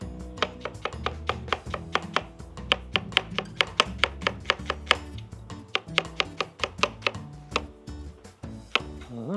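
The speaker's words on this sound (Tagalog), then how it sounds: "Cutting our onions." Onions being chopped with a knife on a board for Filipino-style picadillo: a steady run of crisp, close knocks in quick rhythm, mostly alone with no talk.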